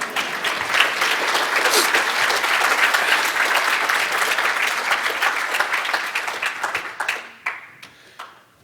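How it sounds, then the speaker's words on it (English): Security conference crowd at ShmooCon 2013 applauding after a working live demo, loud sustained clapping from many hands that thins out near the end into a few scattered last claps. "Let's clap."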